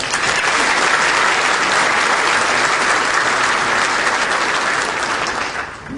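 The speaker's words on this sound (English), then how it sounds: "We owe her a round of applause and our appreciation for what has happened in the Detroit Economic Club" Loud, dense audience applause fills a Detroit Economic Club luncheon hall, steady and sustained for several seconds before easing slightly at the end.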